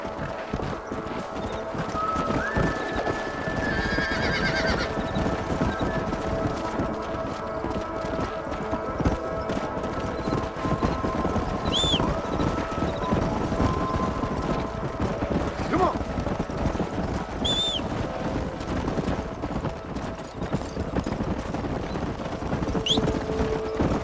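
Horses in the Red Dead Redemption video game clop and gallop steadily across the ground, with a couple of neighs and whinnies rising over the hoofbeats and someone speaking briefly amid the busy outdoor scene.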